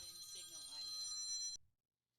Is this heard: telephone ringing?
yes